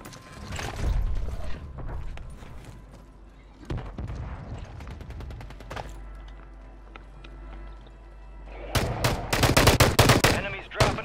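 Gunfire in the ZombieZone shooter game: bursts of sharp shots and rapid machine-gun volleys, some loud and close, with a dense barrage near the end and mechanical clatter between.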